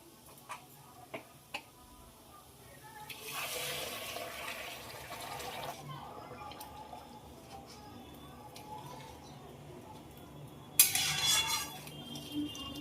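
Hot water poured into a pan of fried potatoes and spices, a soft rushing pour building for a few seconds, then quiet clinks and ticks, with a louder hiss near the end.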